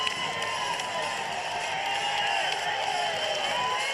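A basketball arena crowd at ICCU Arena roars during an Idaho State versus Idaho rivalry college game, a loud sustained wash of cheering with whistles and shouts.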